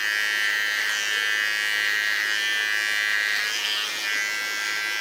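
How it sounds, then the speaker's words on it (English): Electric hair clipper trimming the neckline of a platinum blonde pixie cut, a steady close buzzing hum that runs unbroken and loud throughout with no talking. "Only the thing is that with a clipper you have a lot of control."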